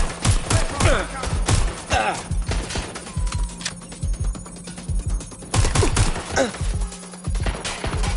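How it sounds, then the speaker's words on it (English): Gunfire in the video game Watch Dogs: Legion, bursts of rapid shots crackling loudly in irregular volleys through the clip, mixed under shouted voices. "Taking fire!"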